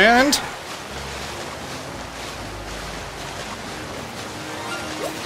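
Riding Basculegion across open water in Pokemon Legends Arceus produces a steady rushing wash of water and wind that carries on throughout, with a brief voice and a short sweeping tone at the very start.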